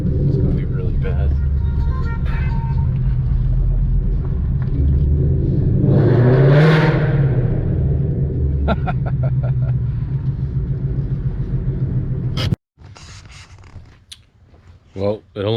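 A 2020 Ford Mustang with Texas Speed headers rumbles at idle inside a parking garage, then revs once into a loud rising roar before settling back, with a person speaking over the echoing engine.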